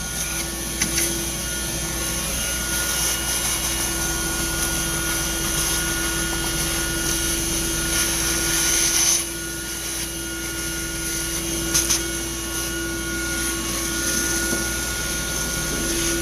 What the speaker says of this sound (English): Sucking up all kinds of nuts.